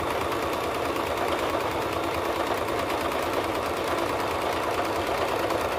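A sewing machine runs a steady zigzag stitch along the hem of a crop top, a continuous close mechanical whir and rapid chatter holding at an even pace throughout with no pauses.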